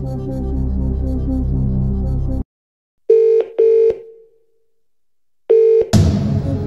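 In the Who Wants to Be a Millionaire video game, a telephone rings for the phone-a-friend lifeline. A sustained musical chord gives way to electronic ring tones in short bursts with gaps, then a final ring and a rushing swell.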